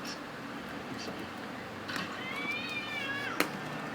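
A cat being washed lets out a single drawn-out, wavering meow near the end, faint against a background of running water and small knocks.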